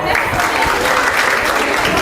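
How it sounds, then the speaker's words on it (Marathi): Brief, full applause from an audience at a local women's contest show, a dense steady patter of many hands clapping throughout, with a faint murmur of voices underneath. "त्यांच्यासाठी टाळ्या वाजवा"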